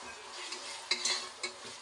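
Onion and tomato being stirred together in a pressure cooker for chicken biryani, a short run of soft scraping and sizzling with a few sharper utensil knocks, close and alone.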